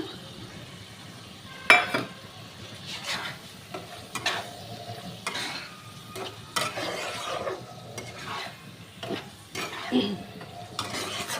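Prawns frying and being stirred in a pan of cooked-down spice paste, with a steady low sizzle under irregular scrapes and clinks of a spoon against the pan, close and moderately loud.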